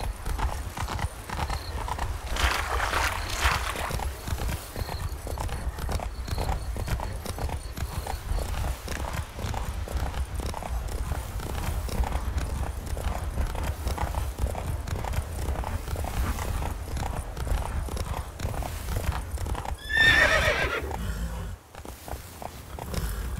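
Hooves of the horse Roach in The Witcher 3 video game clop steadily and continuously at a trot, with a short whinny near the end over a dense, rustling game soundscape.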